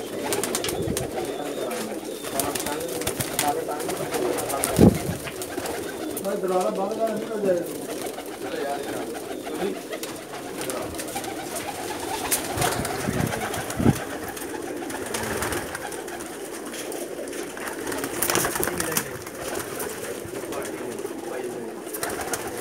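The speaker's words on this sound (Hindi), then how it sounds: "देखें कितने खूबसूरत कबूतर हैं" Pigeons, dub and cupboard-kept birds in Pakistan, cooing in soft low repeated burbles close by, with someone talking and background rustling throughout.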